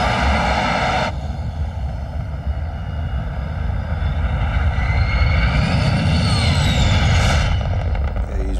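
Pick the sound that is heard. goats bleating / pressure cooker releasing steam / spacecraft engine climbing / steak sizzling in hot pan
spacecraft engine climbing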